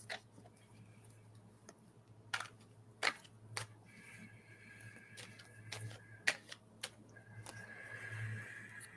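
Tarot cards being shuffled by hand: a run of crisp, irregular snaps and riffles, some sharper than others, heard close over a low steady hum with no talking.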